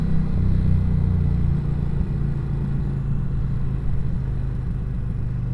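A 2020 Indian Challenger motorcycle downshifting on a ride, its engine a steady close low rumble that dips briefly as the gear changes, with no talk over it.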